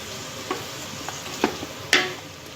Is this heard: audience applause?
no